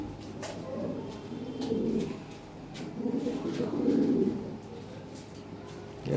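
Adult Lahore pigeons kept for breeding coo in soft, low, throaty bursts, two longer swells of cooing rising and fading over a steady close background.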